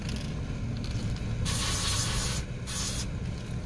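An aerosol can sprays onto the front brake parts of a 2003 Chevy Silverado 1500 in close, hissing bursts, one long blast followed by a shorter one, with no talking.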